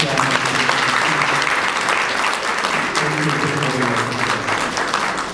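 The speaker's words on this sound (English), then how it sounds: "Let's give another loud clap." Loud, steady applause fills the hall at a Zambian corporate business dinner in London, with voices faintly audible beneath the clapping throughout.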